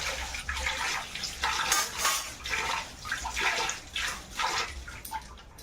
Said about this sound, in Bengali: কড়াটা ধুয়ে নেব।